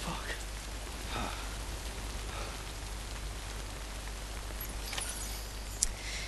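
Rain falls steadily in Death Stranding, a soft, even hiss of drops on the ground, fairly faint and continuous, with a brief brighter splash near the end.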